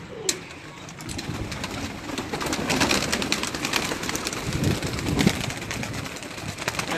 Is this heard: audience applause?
no